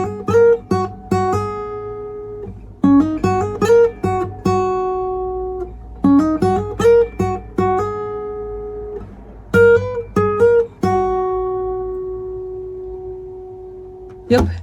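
Electric guitar riff read from tabs, with hammer-ons and vibrato: clean, close plucked notes in repeating phrases, quick note clusters followed by long ringing sustained notes, alone without talk.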